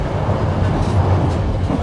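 A train rolls along a railway with a steady, loud, low rumble that carries through the whole short stretch with no talking.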